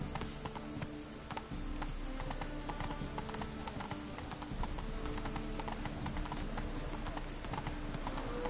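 Horse hooves clip-clopping at a steady riding pace in the video game Witcher 3, a continuous rhythmic clatter over ambient game sound, fairly close and even in loudness.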